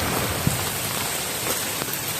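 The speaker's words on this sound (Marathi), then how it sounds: "पाऊस आला रे पाऊस आला पाऊस आला" Sudden heavy monsoon downpour in the Konkan countryside near rice fields, a dense, even hiss of rain on surfaces with occasional distinct drop impacts, close and unbroken.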